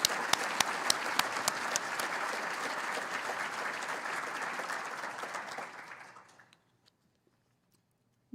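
Audience applause at a Midland city State of the City address, a dense steady clapping that fills the room for about six seconds, then thins out and stops, leaving near silence.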